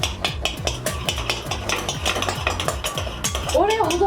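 A spoon stirs chocolate hazelnut ice cream in a container, making quick, rhythmic metallic clinks and scrapes close by. A voice briefly sounds near the end.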